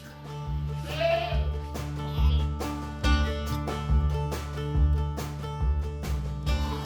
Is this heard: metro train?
no